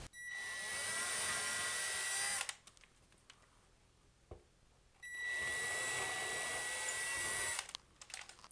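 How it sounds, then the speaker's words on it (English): A power drill bores screw holes into drywall in two long whining bursts of about two and a half seconds each, close and loud, separated by a quiet pause with small handling clicks. "I'm just going to hold it up there and drill them right now"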